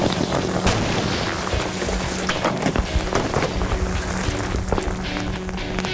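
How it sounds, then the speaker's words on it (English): Red thermite burning on ice erupts, with sharp booming cracks over a rough, roaring hiss that stays loud throughout. "I'd say that was an explosion."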